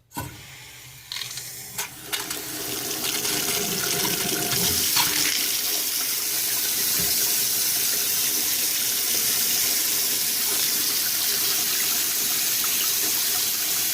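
Water runs steadily from a newly installed bathroom sink faucet, a broad continuous rush that starts after a brief quieter moment and stays loud and even to the end, close by with no talking.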